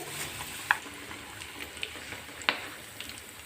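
Raw rice grains frying in hot oil, giving a quiet, steady sizzle with faint crackling and a couple of sharp pops, with no voices.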